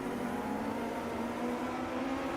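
Engines of a pack of race cars drone together in the AMS2 racing sim, a dense, steady whine from several cars at once that never lets up, with no single car standing out.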